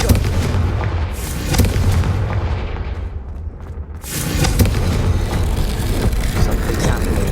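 A Confringo fire spell blast in the Hogwarts Legacy video game, a loud booming explosion with a rumbling tail, followed after a short dip by a second heavy burst and sustained roar.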